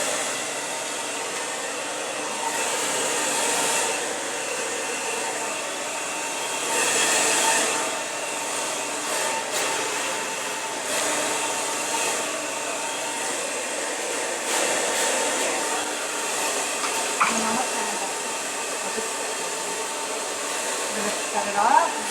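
A handheld hair dryer blows steadily and loudly on hair during a quick blow-dry, a continuous airy roar that swells and dips slightly as it moves, with no talk over it.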